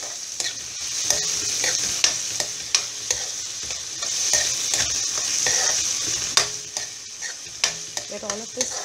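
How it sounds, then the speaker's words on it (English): Chopped vegetables with capsicum fry for pav bhaji, with a continuous sizzle and frequent scraping stirs of a spoon against the pan, close and fairly loud, no talking. "Let all of this fry very nicely."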